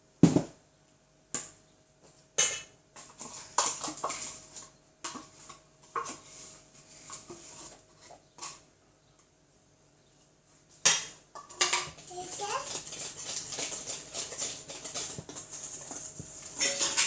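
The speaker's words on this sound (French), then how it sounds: "Bien mélanger pour éviter qu'il y ait des grumeaux." Eggless cake batter mixed in a bowl by hand, with scattered clinks and knocks of a utensil at first, then a steady, busy scraping and whisking against the bowl that fills the second half.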